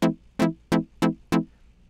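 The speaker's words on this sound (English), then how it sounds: "It'll be a pluck sound like this." Five short synthesizer plucks from NI Massive, each a sharp bright attack that decays quickly, evenly spaced and alone.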